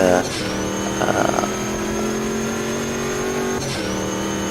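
AI race cars in the sim racing game Automobilista 2, engines droning steadily at high pitch with a rev change and a brief burst of tyre or contact noise, loud and continuous without speech.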